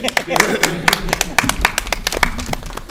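A small group claps together indoors after a contest result is announced, with sharp, irregular hand claps close by in a short burst while voices talk underneath.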